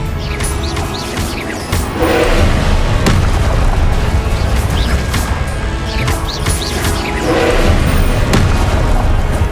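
Confringo blasting spells in Hogwarts Legacy on Xbox: heavy booming explosions land one after another in a loud, continuous barrage of rumbling crashes and debris.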